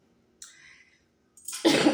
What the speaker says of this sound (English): this pollen and everything um, got me coughing a little bit